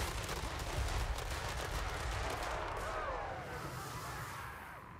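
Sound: shotgun gunfire in a video game (Warhammer, Malakai Makaisson)

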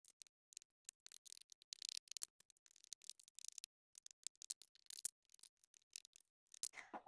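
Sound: scissors cutting lining fabric around a pattern

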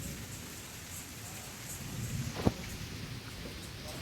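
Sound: rain

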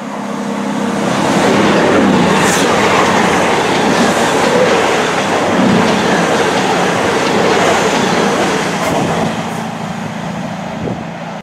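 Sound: Avanti West Coast train on the Northampton Loop

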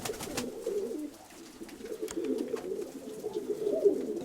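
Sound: pigeons cooing

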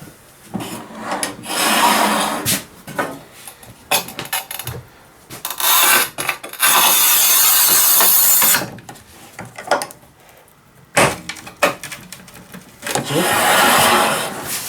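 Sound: scoring tile with TOPVEI TC-X01 manual tile cutter

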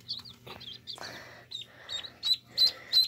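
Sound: gold duck calling

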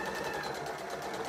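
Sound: sewing machine stitching a headband

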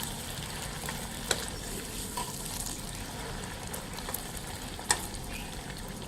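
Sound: aloe vera sabzi frying in a pan

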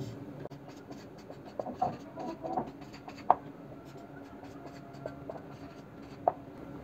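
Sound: writing the reason in a math solution

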